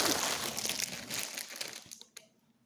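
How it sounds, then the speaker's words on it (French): Crinkly rustling and crumpling of plastic packaging as a clothing parcel is opened, dense and close at first, then thinning to a few sharp crackles before fading out. "Je vais déballer."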